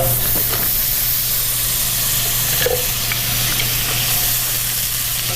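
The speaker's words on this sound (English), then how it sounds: "I've got our wok heated up, and we're going to start with a stick of butter" A stick of butter melting in a heated wok, giving a steady soft sizzle and hiss throughout with a few faint clicks and no talking.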